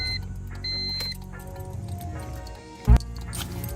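A B-swapped Honda Civic engine cranks on the starter without firing: a steady mechanical whir that runs for about three seconds, followed by one short loud clunk.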